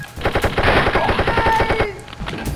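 Rapid automatic gunfire in the video game Wolfenstein, a loud sustained burst of dense repeating shots that runs for about two seconds and then cuts off.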